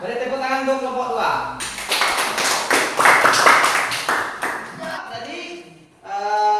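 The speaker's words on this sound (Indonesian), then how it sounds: "beri tepuk tangan" A classroom group claps for group 2, a burst of lively applause lasting about three seconds, with speaking before and after it.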